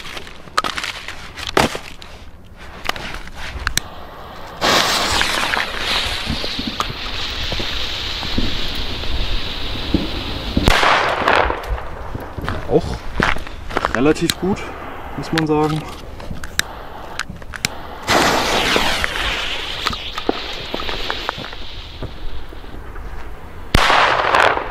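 WECO Super Böller 2 firecrackers from a Lidl assortment go off outdoors as a run of loud, sharp bangs and crackling bursts at irregular intervals, with someone talking in German between them.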